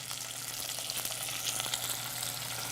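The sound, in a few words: pork sizzling in a hot pan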